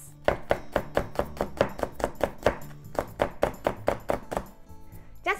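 A knife slices through food on a cutting board with a brisk, regular series of close thunks, about a dozen evenly spaced strokes, with no talk over them.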